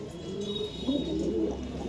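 Kaldom pigeon, an aggressive bird held in hand, giving low cooing calls close by, brief and soft with faint background noise.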